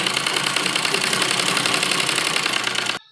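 A sewing machine runs a long basting stitch over net fabric for an embroidered lehenga blouse, making a fast, even mechanical rattle close by that cuts off abruptly just before the end.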